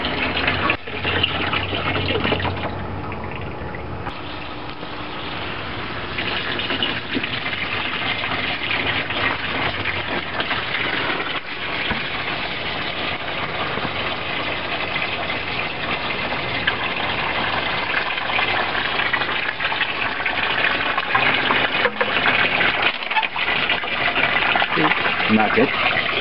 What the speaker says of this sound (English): Just testing for drips in the drains before I add too much water to this system.